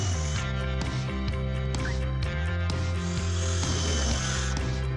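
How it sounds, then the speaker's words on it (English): A power drill bores pilot holes for screws into a wooden door during hinge installation, a steady loud motor whine with repeated brief surges and dips as the bit cuts, with no talking. "you must pre-drill with a bit that is a little thinner than the screw"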